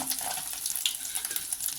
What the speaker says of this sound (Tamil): முந்திரி பருப்பு லேசாக வறுபடுற வரைக்கும் அடுப்பை சிம்மில் வச்சுட்டு அப்படியே வறுக்கலாம்.